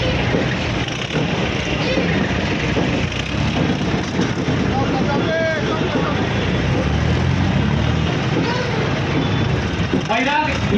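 Hundreds of tractors gather at a Maratha reservation protest rally in Vairag, their engines producing a constant loud rumble with some whining tones, under a crowd murmur and a voice talking over it.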